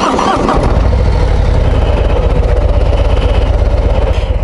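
A Harley-Davidson Road Glide ST 117 motorcycle starts with a brief crank. Its big V-twin then catches and settles into a loud, close, throbbing idle that lasts to the end of the clip.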